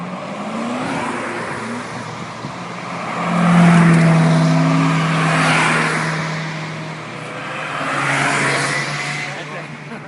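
Corvette ZR1 exhaust at an exotic car show, a deep engine rumble swelling into revs and easing off in waves, fairly close, with crowd chatter and voices around it.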